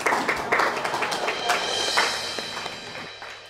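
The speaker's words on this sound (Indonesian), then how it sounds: "tepuk tangan akan membangunkan kamu" Sharp hand claps at a hypnosis session, a quick burst of several claps near the start that thins into scattered taps and fades.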